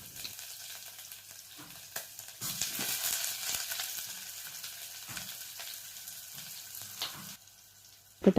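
Whole garam masala spices fry in hot oil in a pan, a soft, steady sizzle heard close with a few light clinks and stirs, ending in a sharp knock.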